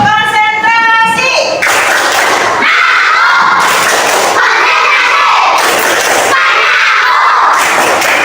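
Children in a classroom clap out a rhythmic routine together, with loud bursts of group claps in a regular pattern of repeated beats. Voices chant over the claps, and a brief sung phrase comes at the start.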